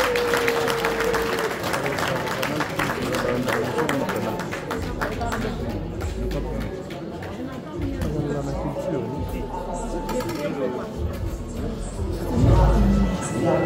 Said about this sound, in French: On va encourager en applaudissant très fort